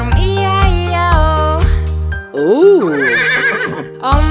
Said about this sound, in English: And on this farm he had a horse, E-I-E-I-O.